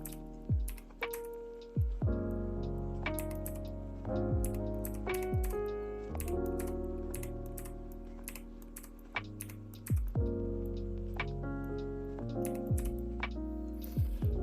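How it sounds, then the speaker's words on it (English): A mechanical keyboard clicks in rapid bursts of keystrokes during a gaming session, close and crisp over a steady tonal background. "Oh, love that mechanical keyboard click."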